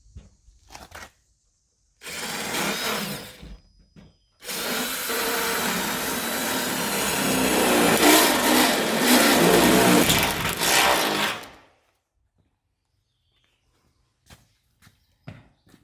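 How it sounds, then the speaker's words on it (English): A power drill with a large bit grinds into wood in two loud stretches, a short burst then a longer steady cut, with quiet knocks and pauses around it. "So now I'll put a bigger drill bit on to start my cut."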